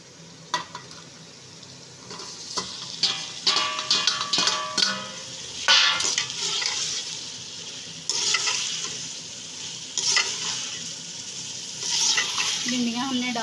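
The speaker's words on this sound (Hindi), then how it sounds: "इसमें अब हम भिंडियाँ जो फ्राई करके रखी हुई थी वो डाल देंगे।" Fried okra stirred into sizzling onion masala in a pan, with steady frying hiss and repeated clinks and scrapes of a spoon against the pan, close and moderately loud.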